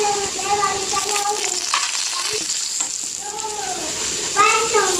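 Onion and coriander powder frying in a pan for an amaranth greens dish, loud continuous sizzling with a spoon stirring and scraping, while faint children's voices rise and fall in the background.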